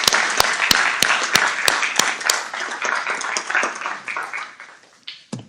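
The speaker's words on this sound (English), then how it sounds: "So all staff members here, can we give them a round of applause and thank you for all they do." Audience at a county board of supervisors business meeting applauds staff members, starting with a few sharp individual claps that swell into a moderate round and fade out near the end.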